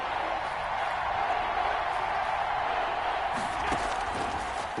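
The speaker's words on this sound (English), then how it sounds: "The crowd getting into it as we come up on a big 3rd down." Steady crowd roar and cheering from an American football video game, a dense, even wash of stadium noise swelling slightly toward a big third-down play, with no speech over it.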